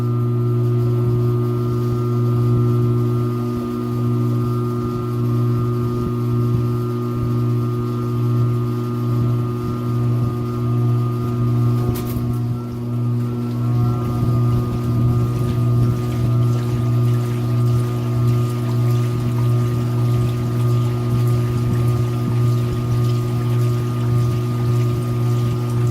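A 2017 Speed Queen washing machine runs an Eco Normal cycle with towels, giving a steady loud motor hum with sloshing water throughout, unbroken and close, with no talking.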